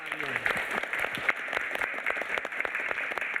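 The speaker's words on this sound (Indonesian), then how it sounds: "tepuk tangan untuk 6" A studio audience on a matchmaking show applauds contestant 6, a moderate, somewhat sparse clapping with individual claps standing out, and a voice briefly audible at the start.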